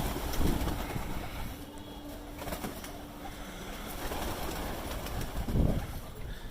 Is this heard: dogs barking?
no